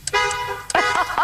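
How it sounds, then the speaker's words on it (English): A car horn gives a sustained, close honk during a morning TV segment from an auto show, followed by voices talking and further short horn-like toots. "And a honk yet."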